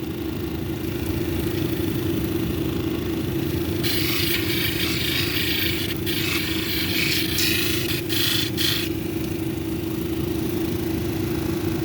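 A lapidary polishing machine works a flint cabochon on a 600 grit wheel, giving a steady motor hum and rumble throughout, with bursts of brighter hissing grinding noise midway as the stone is pressed to the wheel.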